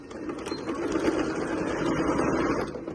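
A domestic sewing machine runs steadily as fabric is stitched for a small milk-carton-shaped box while making a travel bag, a continuous close mechanical whir lasting throughout with no talk.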